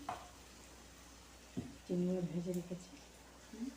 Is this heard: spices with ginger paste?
yes